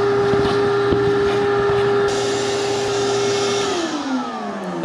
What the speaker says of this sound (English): This old trusty die grinder.